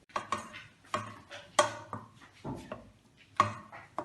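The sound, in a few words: stirring pot with wooden spoon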